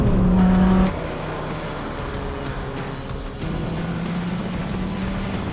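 A race truck engine drives on a racetrack, a loud steady roar with a strong low drone that drops slightly in pitch after the first second, then holds on through the rest.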